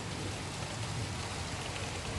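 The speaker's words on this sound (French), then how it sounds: "franchement, je suis tombé sur un bel orage." Steady, heavy rain falls during a nighttime thunderstorm in the Gard, France, a continuous hiss of drops with no distinct thunder clap in this short stretch.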